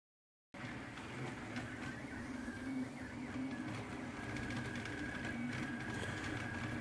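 An Anycubic Kossel delta 3D printer runs a print job, giving a steady mechanical whir with faint stepper-motor whines and fan noise, continuous and fairly quiet after a brief silent start.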